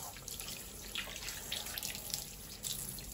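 Water running steadily from a tap during hand washing, a soft, even rushing stream with faint splashes and drips, quiet and close, with no talk.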